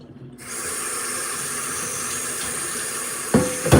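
Potatoes rinsed under a running kitchen tap, a steady close hiss of water that starts abruptly and fills the clip, with a few knocks and splashes near the end.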